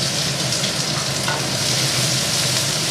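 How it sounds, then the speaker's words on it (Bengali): Chopped onions frying in hot oil in a pan for chana masala, a steady, dense sizzle with a faint stirring scrape, continuous and close, with no voices. "পেঁয়াজ ভাজা হবে এখন"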